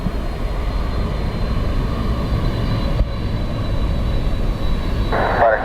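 A plane lands on runway 28 left at Dublin Airport: a steady jet roar and rumble that holds at a strong, constant level throughout, with a faint tonal whine on top and a short change near the end.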